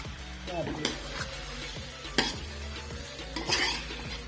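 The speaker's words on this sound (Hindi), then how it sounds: "अब देखिए मैं आलू डालूंगी ना इसमें" Cut potatoes for aloo bhujia sizzle steadily in a hot pan while being stirred, with a spoon scraping and clinking against the pan.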